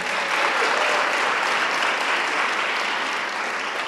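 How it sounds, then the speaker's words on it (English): Audience at a memorial and community awards ceremony applauds steadily and fairly loudly for the whole stretch, a dense wash of clapping with no voices. "So please join me in congratulating the following Eagle Scouts: Benjamin Webb,"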